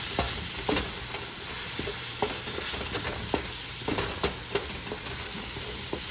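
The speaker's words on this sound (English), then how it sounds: "Let me give this a stir." Sausages frying in a pan with maple syrup are stirred, giving a steady sizzle with scattered scraping clicks of the utensil against the pan throughout.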